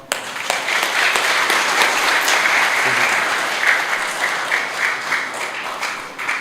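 An audience breaks into sustained applause at a gathering, dense and loud clapping from many hands that swells and slowly tapers over several seconds, with faint voices beneath.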